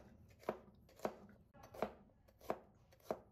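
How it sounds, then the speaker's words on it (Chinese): A knife chops ginger and garlic on a cutting board in five sharp, evenly spaced strikes, close and fairly quiet, with no talk. "再剁一剁，剁得碎小一些，会更加的入味好吃"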